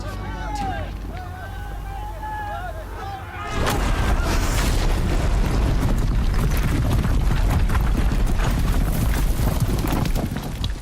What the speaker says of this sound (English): All of you, be ready to fire! Will the guns hold them back?